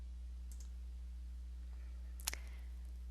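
Two faint computer mouse clicks while naming a cell in Excel, one short tick and then a sharper click a couple of seconds later, over a low steady electrical hum.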